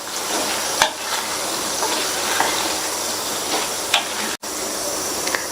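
Boiled, peeled, cut potatoes being stirred into a frying spicy masala, a steady loud sizzle with occasional spoon knocks against the pan and a brief dropout near the end.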